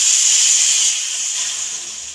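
Water poured into a hot pan of fried rice, a loud steady steam hiss that tapers slowly across the couple of seconds, no talk.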